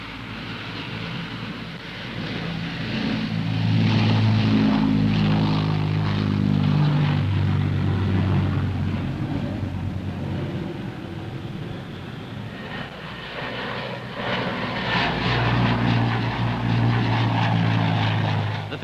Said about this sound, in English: the giant Hercules C-130 needs very little runway for takeoff and landings